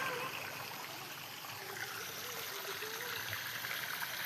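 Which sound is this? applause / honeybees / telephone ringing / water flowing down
water flowing down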